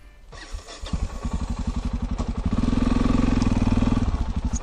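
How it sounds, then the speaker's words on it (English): A motorcycle engine cranks with rapid chugging pulses, then catches and settles into a steady, loud idle close by. "start the engine"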